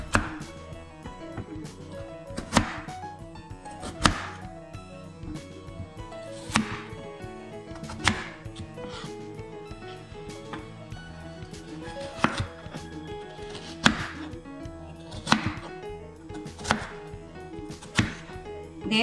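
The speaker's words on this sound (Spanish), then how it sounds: "Las papas las picamos en cuadrito." Knife chopping potatoes into cubes on a cutting board, a long run of crisp, fairly regular chops close by with brief pauses, and no talking.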